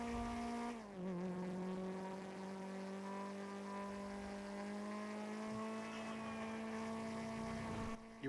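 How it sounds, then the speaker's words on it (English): A loud, nasal car engine drones steadily throughout, pitch dipping briefly early on then holding a constant high whine. "You weren't kidding about this car being loud."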